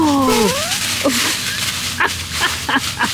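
Dogs at play in fall leaves, loud and close: a rising whine opens, then a string of sharp yips and short barks in quick bursts.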